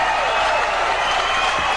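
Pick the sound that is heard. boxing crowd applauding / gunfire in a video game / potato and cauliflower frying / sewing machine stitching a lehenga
boxing crowd applauding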